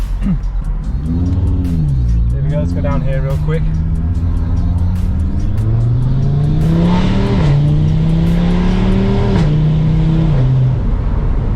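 A 2019 Audi RS3 with a full Milltek exhaust revving and accelerating through its gears, loud and close, with rising engine tones and crackling pops on shifts while someone talks over it.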